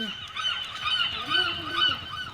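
A goose in the Roblox Mr Bean video game honks in a steady series of nasal, fairly loud calls that rise and fall, with no talking over them.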